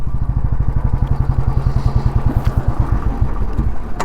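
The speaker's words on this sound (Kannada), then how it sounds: "ಇನ್ನು ಗಾಡಿ ಆಫ್ ಹೋಗ್ತಾ ಇದೆ." A motorcycle engine runs low on reserve petrol and is about to cut out. It gives a loud, close, steady chugging idle with an even pulsing rhythm throughout.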